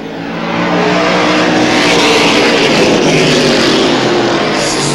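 Race cars run side by side around a track, door to door while battling for position. Their engines make a loud, steady, roaring drone that fills the whole stretch, close up and with no voices heard.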